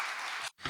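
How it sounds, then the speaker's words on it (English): An audience at a health programme conference in Poland applauds loudly with dense, sustained clapping. It drops out briefly, then the clapping resumes. "A round of applause."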